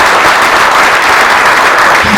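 An audience at a Cameroonian community gala in Montréal applauds Jasmine Iméné, a personality award laureate, with dense, loud, steady clapping filling the whole moment.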